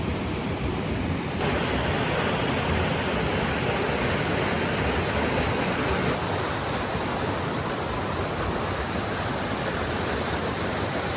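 Small waterfalls in Scotland pour in a dense, steady roar of rushing water, broadband and unbroken for about eleven seconds, close and loud with no voices.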